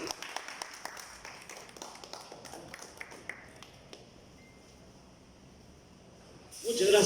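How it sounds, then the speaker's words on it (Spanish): Applause at a Christian businessmen's fellowship gathering starts as a quick patter of claps, fades into a quiet hall over several seconds, then a louder burst of noise swells at the very end. "un fuerte aplauso para"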